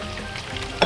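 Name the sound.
onion, sweet pepper and luncheon meat sizzling in pan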